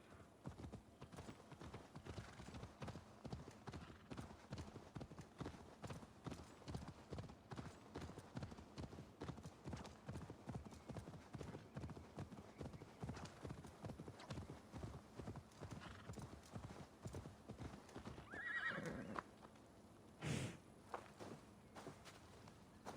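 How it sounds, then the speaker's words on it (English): Horse in Assassin's Creed Valhalla galloping steadily, with rapid rhythmic hoofbeats continuing close and loud for most of the stretch, then a brief whinny near the end. "Call the horse."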